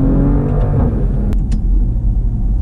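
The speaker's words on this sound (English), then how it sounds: "The pops, the burbles, all that stuff, like a bowl of Rice Krispies." Murdered-out 2019 Maserati Levante exhaust close by, a loud deep rumbling idle and rev with brief crackles and pops mixed in.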